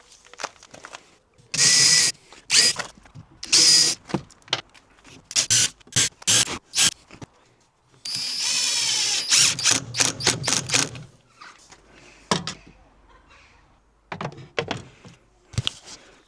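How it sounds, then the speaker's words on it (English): Power drill driving new screws into the side of a pull-out kitchen unit in a micro camper, heard as a series of short whirring bursts of varying length separated by pauses, fairly close and loud. "So before I remove these screws, I'm going to put some new screws in further back."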